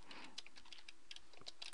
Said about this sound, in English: Having issues typing.